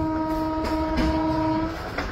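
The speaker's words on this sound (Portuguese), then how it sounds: "O trem saiu de Restinga Seca em direção a Santa Maria." A passenger train travels from Restinga Seca toward Santa Maria, rumbling steadily as a sustained horn tone rings over the clatter of the cars.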